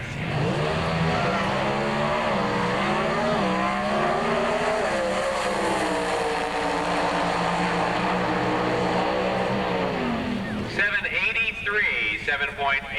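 A 1986 NHRA Pro Stock drag car, a Lincoln Mercury Cougar, roars at full power with rising, shifting engine pitch, loud and sustained, before fading into crowd and track noise near the end; an announcer talks over it.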